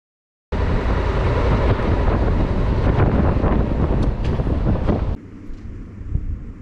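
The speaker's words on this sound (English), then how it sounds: "That's how strong the wind was. It was like gale force." Strong gale-force wind roars across the microphone during a long-distance motorcycle ride toward the Finke Desert race, loud, buffeting and continuous, then drops suddenly to a quieter rumble near the end.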